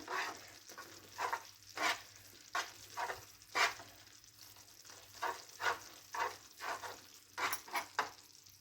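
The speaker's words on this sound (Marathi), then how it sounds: "गुळ इथं मेल्ट झालेला आहे आता हे दोन तीन मिनटं शिजवून घ्यायचं" Melted jaggery syrup for sesame ladoo bubbles in a pan, giving a soft steady simmer broken by a run of rhythmic scraping or stirring strokes, close and fairly quiet with no voices.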